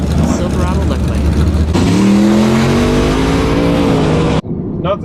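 A Tesla Model S Plaid and a turbocharged Chevrolet Silverado launch in a quarter-mile drag race at Bradenton Motorsports Park, a loud engine roar rising in pitch as they accelerate, then cutting off abruptly near the end.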